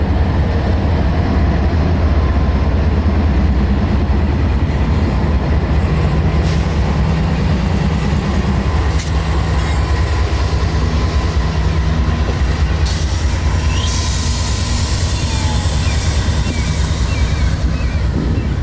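A freight train rumbles past loudly and steadily on a cold November day, with a heavy low roar and faint rhythmic clatter of wheels that persists throughout.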